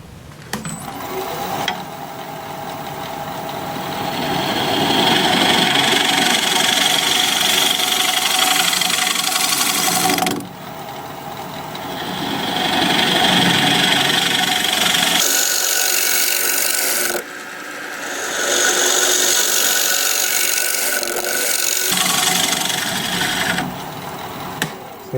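A scraper works apricot wood on a spinning wood lathe, giving a loud, close, gritty rasp in long sustained passes broken by short pauses, with the lathe's motor hum running beneath.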